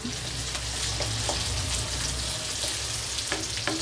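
Red and yellow capsicum sizzle steadily in butter in a pan, a dense, even frying hiss close by with occasional small pops and stirring clicks throughout.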